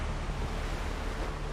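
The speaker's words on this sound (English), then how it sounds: "I feel like this is obnoxiously loud with the water." Loud, continuous rush of ocean waves and sea water in a Pirates of the Caribbean video game, a dense, steady roar with wind-like noise filling the whole moment and no talking.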